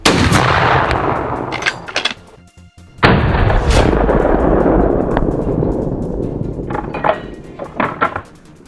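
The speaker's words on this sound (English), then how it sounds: "leaving only the sound of gunfire and a lingering scent of smoke" Gunfire from a mountainside wild boar hunt: several sharp cracks and bursts ring out loud and close, with brief gaps and echoing tails, amid rustling outdoor noise and no talking.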